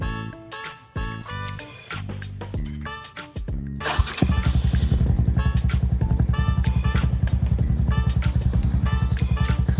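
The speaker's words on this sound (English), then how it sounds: "I think I'm gonna turn on this bike and I'm gonna put it on first gear." Venom X22R 250cc motorcycle engine idling and running in first gear, starting with clattering handling sounds before a steady, close, loud engine putter takes over for the rest.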